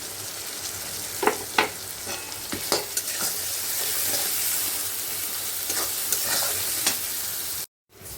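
Chicken gizzards and liver sauté with ginger-garlic-onion paste and ground coriander and cumin in a steady close sizzle, broken by repeated scraping stirs, before cutting out abruptly near the end.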